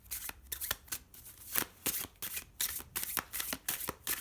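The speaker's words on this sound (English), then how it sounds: "Yeah, I love shuffling these cards" Linen-finish tarot cards are shuffled by hand in quick, rhythmic bursts of crisp riffling and slapping, close up, with no talking.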